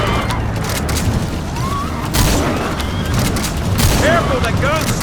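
Gunfire and booming blasts in Metal Gear Solid V: The Phantom Pain rattle in loud, steady bursts, with voices calling out over the shooting.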